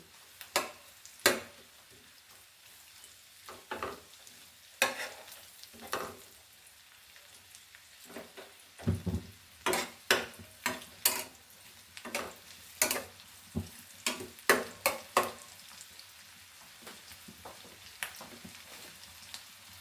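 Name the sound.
frying cinnamon in a pan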